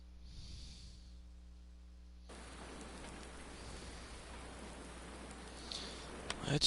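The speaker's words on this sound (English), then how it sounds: "of course it's flippin' raining" Rain falls outdoors in Bucks County, Pennsylvania, as a soft, even hiss of drops that starts partway in and continues quietly to the end.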